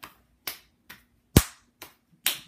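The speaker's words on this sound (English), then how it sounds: "And do the hand clapping there" Six sharp, separate hand claps, spaced roughly half a second apart, ring out one at a time in a quiet room during a balance test; one clap near the middle is noticeably louder.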